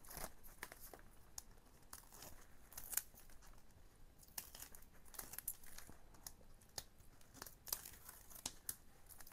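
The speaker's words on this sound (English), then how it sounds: "I'm just going to pull the back off my tape" Backing is peeled from adhesive tape in a faint, close, continuous crackly tearing with small sharp pops and crinkles scattered throughout.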